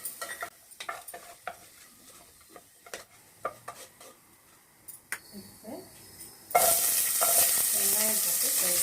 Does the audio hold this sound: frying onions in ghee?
yes